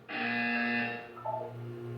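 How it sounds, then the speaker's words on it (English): A buzzer sounds in the video game Portal 2 as a single sustained electronic tone, held for about a second before shifting to a lower, quieter tone, heard alone. "When you hear the buzzer, look up at the ceiling"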